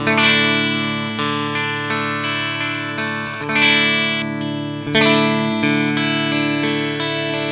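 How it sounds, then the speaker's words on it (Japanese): Electric guitar run through a ZOOM MS-80IR+ pedal's FD Twin R amp simulation, Twin Reverb style, recorded from its line output: clean sustained chords strummed every second or so, ringing out with reverb and no talking. "一つ目はいきなりツインリバーブ風の FD ツイン R っていうのがいますね"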